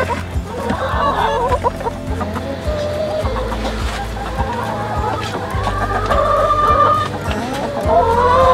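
Chickens cluck and squawk continuously inside a coop of nineteen egg-laying hens, a busy overlapping chorus close by with rising calls, over a low background hum.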